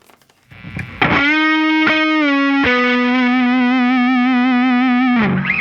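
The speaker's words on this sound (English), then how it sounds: "And one of those is the double string bends." Distorted electric guitar plays double string bends, two notes sliding up and held long with a wavering sustain, loud and alone with effects-laden tone.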